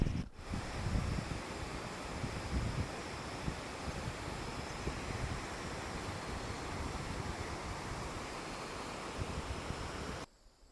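Constant rushing water roars close by at Dhokaney waterfall near Nainital, Uttarakhand, a dense unbroken wash of falling and flowing water that cuts off abruptly at the end.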